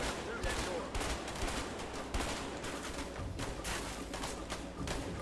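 Gunshots fired through a box in A Way Out during a Mexican shootout, a dense run of close, sharp reports in quick succession, partly under talking.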